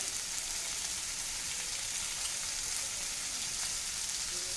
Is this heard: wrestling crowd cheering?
no